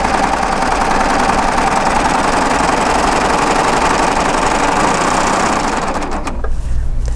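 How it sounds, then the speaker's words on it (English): Sewing machine stitching a straight chain stitch through stretchy lycra, a steady close mechanical whir with fine rapid needle rhythm that runs almost throughout, then stops abruptly near the end. "We're going to do our straight chain stitch."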